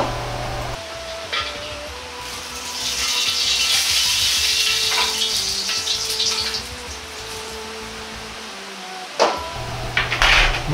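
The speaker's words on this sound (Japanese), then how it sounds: "温度が上がってきたら、タケノコを油の中に入れ、10秒くらいで火を通します。" Bamboo shoots go into hot oil for a quick fry while a spicy shrimp and peanut stir-fry is being made, giving a hissing sizzle that swells in the middle and runs beneath steady background music.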